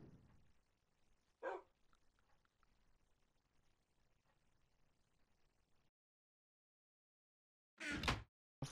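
A dog in the Minecraft video game gives a couple of short barks, one faint early bark and a louder close yap near the end, over quiet game ambience and a brief silent gap.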